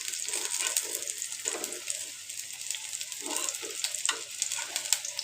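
Pumpkin flower fritters fry in a pan with a steady close sizzle, broken by soft bubbling pops and gentle stirring scrapes.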